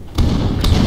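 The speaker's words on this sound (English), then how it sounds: "There's explosions nearby." Two dull, booming thuds of mortar fire land a moment apart over a low rumbling background, muffled as if from some distance, in Arma.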